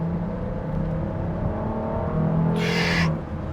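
A 2026 Kia Carnival V6 LXS accelerates, its engine droning with a steady hum that swells as revs climb, heard from inside the cabin, with a brief high electronic tone partway through.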